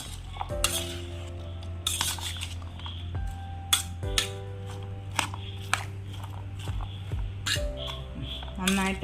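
Ingredients for a weight-loss recipe are stirred in a bowl, a spoon clinking and scraping against the dish in irregular taps and clatters, with a steady hum beneath and someone speaking throughout.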